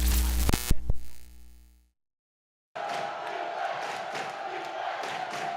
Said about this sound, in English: Do you hear that crowd?